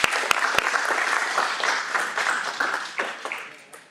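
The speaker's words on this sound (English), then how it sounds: "Let's give a big round of applause for Talise." An audience at a school board meeting claps steadily for several seconds, a dense patter of many hands with a few sharp, loud claps up front, slowly fading toward the end.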